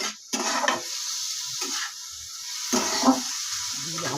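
Carrots, cabbage, onion, ginger, garlic and chilli lightly frying in oil for soup, heard as soft sizzling and stirring scrapes in short bursts with quiet gaps between, close and fairly faint.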